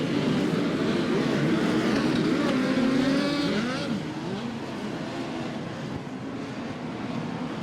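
Midget race cars howl around the Port City Raceway dirt oval in a POWRi midget league race, engines rising and falling in pitch as they pass, with a commentator's voice faintly under the roar.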